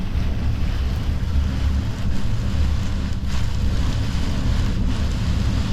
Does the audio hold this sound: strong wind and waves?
yes